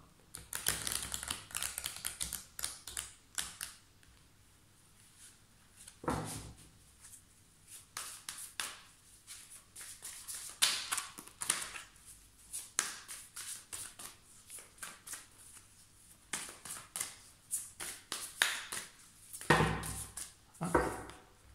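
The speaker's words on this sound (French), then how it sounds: "on va couper et on va rebattre un coup pour voir" A deck of playing cards being cut and shuffled by hand, heard as bursts of rapid riffling flutter and soft slapping clicks in several rounds with brief pauses between them, close and without talk.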